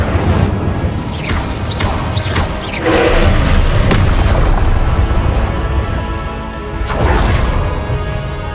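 Confringo spell blasts go off in the Hogwarts Legacy video game, loud booming impacts and crashes with whooshes rolling through dense combat noise over several seconds.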